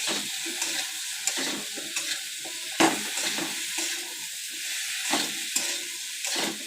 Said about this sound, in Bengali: তাই এখানে আমি সবজিগুলো সব একসাথেই ভেজে নিচ্ছি।